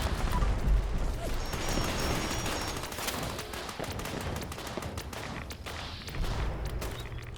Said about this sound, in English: I still hit her with the home-seeking grenades here